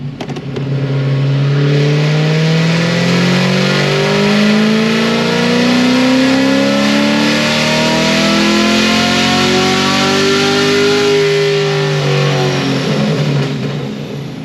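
Procharger-supercharged car engine on a dyno, revving loud and sustained with rising and falling pitch sweeps as it pulls through the rpm range, no talk.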